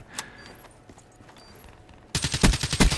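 Gunfire in Call of Duty Black Ops 3: a sudden burst of rapid shots erupts near the end after a quiet stretch with faint scattered clicks, loud and close.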